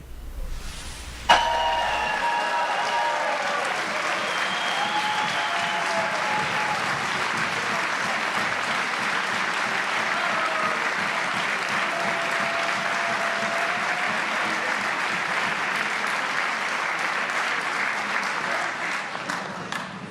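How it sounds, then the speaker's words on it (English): Legislators applaud a governor's speech in a large chamber, a dense, sustained roar of clapping that holds steady for about twenty seconds, with faint voices mixed in. "legislators who are in attendance right now, applauding or reacting in different ways"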